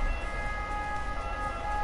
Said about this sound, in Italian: Questo mi viene a prendere l'ambulanza.